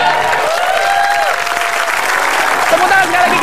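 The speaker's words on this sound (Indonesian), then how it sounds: "Tepuk tangan sekali lagi" Applause from a TV game show studio audience, a steady dense wash of clapping with some cheering, over the show's music and voices.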